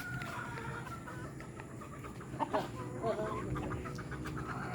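Rhode Island Red hens cluck softly in a backyard coop during egg collecting, a few short clucks over a constant rustling background, with voices faintly present.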